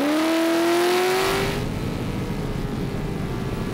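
A sprint boat engine revs hard on a racing course of narrow water channels, a loud rising whine that fades into a dense, rough, steady roar.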